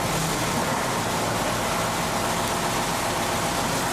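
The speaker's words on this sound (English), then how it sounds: "run the engine at idle." An engine idles steadily throughout, a dense, constant broadband rumble and hiss with no change in speed, close and loud with no other sounds.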